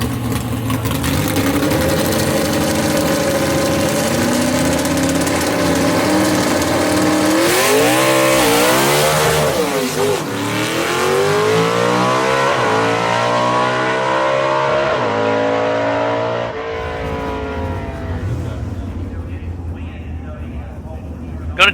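Gasser drag car at Knoxville Dragway, engine rumbling and revving through rising and falling gear pulls before fading away, with an announcer talking over it throughout.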